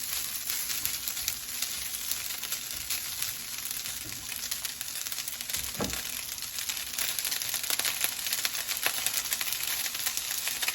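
Pork with carrots and celery stir-frying in a pan makes a steady, dense sizzle that crackles throughout, with occasional scraping and stirring knocks close by.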